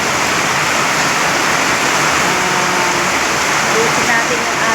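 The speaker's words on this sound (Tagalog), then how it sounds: "Ito, malakas ang ulan dito." Heavy rain pours onto a garden in a dense, unbroken hiss, loud and close with no pauses.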